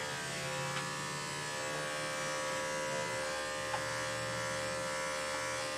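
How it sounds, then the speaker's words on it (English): Andis electric dog clipper fitted with a 10 blade hums steadily and close by for the whole stretch, a continuous motor buzz with no speech over it. "I'm back to my Andis 10 blade now."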